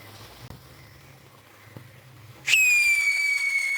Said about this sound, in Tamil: பட்டாசு கொளுத்தி முடிச்சிட்டோம். பட்டாசு வெடிச்சாச்சு.